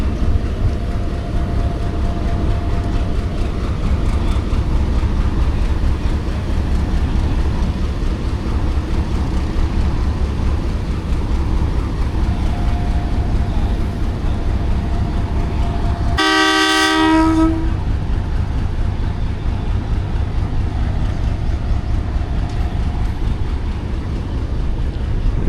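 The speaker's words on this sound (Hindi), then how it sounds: "सेकंड डिपार्चर विसल का वेट है।" Pakistan Express train idles at Wazirabad Junction on a rainy early morning under a steady rumbling hum, then one brief loud horn blast sounds around the middle before the drone carries on.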